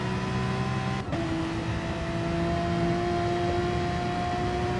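Porsche race car powering along a racetrack, a steady loud engine drone with a brief dip as it shifts, then sustained pull.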